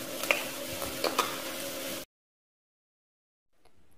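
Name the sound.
frying garlic and ginger paste in a pan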